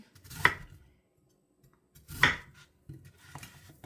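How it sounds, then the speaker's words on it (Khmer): Bursts of knife chopping on a board, separated by short pauses, close and fairly quiet with no talking. "ចាប់ផ្ដើមហាន់ផ្លែឈើយើង ហាន់វាជាដុំតូចៗ"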